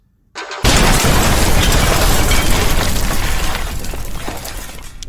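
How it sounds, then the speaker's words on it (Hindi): A sudden, loud explosion in a radio drama bursts in and rolls on as a dense, roaring blast that slowly fades. "जोर का धमाका और प्रकाश होता है।"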